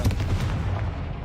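Confringo fire spell cast in Hogwarts Legacy, a single heavy booming blast with a rumbling low-end tail that fades over about a second, loud and close, with no talk.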